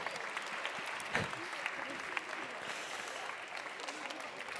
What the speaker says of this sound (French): Merci beaucoup, on peut les applaudir encore bien fort.